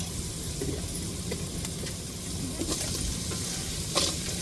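Spices and asafoetida sizzle in hot oil in a pan, a steady close crackling hiss with occasional stirring clinks, heard alone without talk.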